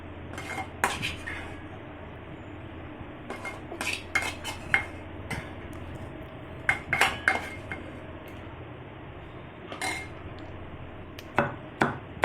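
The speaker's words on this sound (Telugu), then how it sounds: "చూడండి దంచుతున్నాను, చిన్నగా దంచుకోవాలి" Cucumber pieces pounded with chili powder in a mortar for a pickle, a steady run of dull knocks and sharp clinking strikes, close and fairly loud, with no talk.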